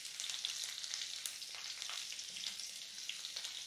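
Green chilies fry in hot oil in a pan for Maharashtrian methi pitla, a steady close-up hiss and crackle with faint popping and no voices.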